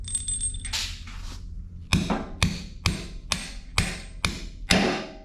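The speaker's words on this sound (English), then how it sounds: "I'll hammer this one down in there" A hammer driving a metal bolt down into dirt in a garage setting: a faint scrape first, then seven sharp, evenly spaced ringing strikes, close and loud, with no voices.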